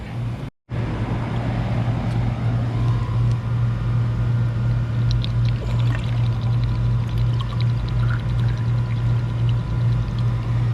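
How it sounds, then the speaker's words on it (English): Water pours steadily into a drain trap to prime it during an air-conditioning service call, over a constant low mechanical hum, with a brief gap near the start and a few faint clinks later on. "I'm gonna go get some water. We're gonna prime that trap."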